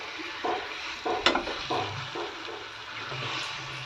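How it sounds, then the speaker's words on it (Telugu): Pieces of korameenu fish are stirred slowly in curry masala for a fish pulusu, with soft scraping strokes and a few clinks over a low, gentle sizzle nearby. "చేపల మీద కలుపుకుందామండి స్లోగా కలుపుకుందామండి కిందకి మీదకి ఇలా మసాలా పట్టాలి చేప ముక్కలకి"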